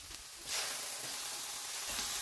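Chicken breast rolls sizzle in a pan with garlic and onion, a faint, steady frying hiss that swells slightly as they go in, with no talking.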